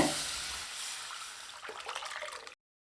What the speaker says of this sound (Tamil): தக்காளி புளி கரைச்சி வச்சதை சேர்த்துக்கலாங்க